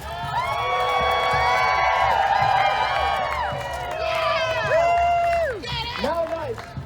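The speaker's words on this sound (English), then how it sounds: "Cheer for your man!" A crowd at the Tampa Bay Area Renaissance Festival cheers and whoops loudly for jousting knights, rising and falling in waves, with children shouting and a voice calling out over the noise.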